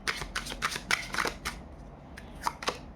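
Tarot cards riffled and shuffled by hand, giving a quick series of crisp papery flicks and slaps close to the microphone, then a short pause before a few final taps.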